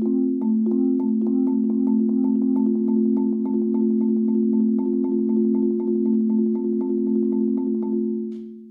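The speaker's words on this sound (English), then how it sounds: "but if you put it with the third mallet, you'll actually hear a triplet type pattern emerge." A sustained mallet roll played with three mallets on a pitched percussion instrument, producing a steady ringing tone with an evenly pulsing triplet pattern, close and clear, fading out at the end.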